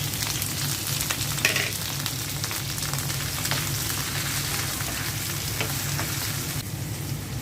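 Chopped onions fry in mustard oil in a frying pan, giving a close, steady sizzle with occasional stirring clicks and no talking.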